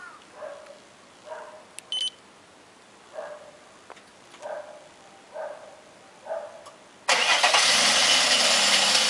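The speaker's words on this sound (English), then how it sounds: "And there you go, the automatic engine starter." Car started by a remote engine starter in Japan on a snowy morning: a series of evenly spaced short beeps, then the engine cranks and catches into a steady, loud idle rumble that continues to the end.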